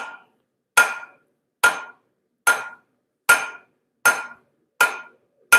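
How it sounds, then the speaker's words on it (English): A hammer strikes metal on an anvil while blacksmithing hooks, in a slow, even rhythm: eight sharp ringing blows about a second apart, each decaying quickly into silence. "the weight of the hammer just does the job"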